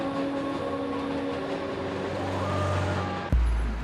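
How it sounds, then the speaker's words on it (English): A New York 7 train runs through Queens with a steady rumble and droning tonal hums that shift slightly in pitch, ending in a sudden loud low thud near the end, with no voices. "The 7 train winds over and through Queens like a main cable."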